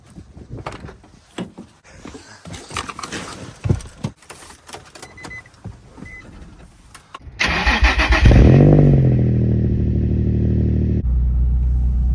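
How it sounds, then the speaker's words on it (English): A Nissan 350Z with an aftermarket exhaust, about 157,000 miles, fires up after keys jangle and a few handling clicks; the engine catches with a loud burst, then settles into a steady, rumbling idle. "All right, let's start it up and go for a drive"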